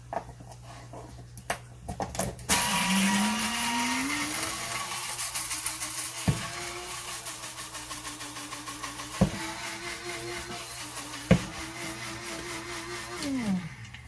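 A small electric coffee grinder with a broken lid grinds duck egg shells, whirring steadily for over ten seconds, its motor pitch rising then holding, with a few sharp clicks and knocks along the way.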